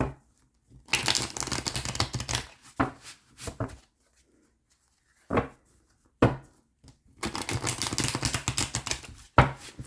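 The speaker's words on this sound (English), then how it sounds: "I'm going to shuffle them on camera." Tarot cards are shuffled in two long riffling bursts, with a few brief taps and snaps between them. The sound is close and fairly quiet, with near silence in the pauses and no talking.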